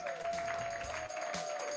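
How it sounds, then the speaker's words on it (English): A live studio audience applauds at the close of a comedy show, a steady wash of clapping over a sustained musical tone, loud and continuous with one brief dip. "How about giving yourself a round of applause?"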